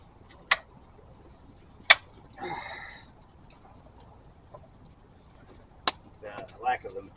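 Sharp isolated clicks of flint and steel striking to light char cloth, three distinct strikes spread across a quiet outdoor stretch, with faint rustling and brief handling noises between.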